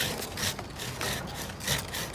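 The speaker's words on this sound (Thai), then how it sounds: "ก็คืออันนี้เอาเลื่อยมือมาแล้ว ก็ ผมจะบากเขาไปก่อน กันเขาฉีก" A hand saw cuts a notch into a leaning teak tree branch with rhythmic back-and-forth rasping strokes, about four strokes in quick succession, close by.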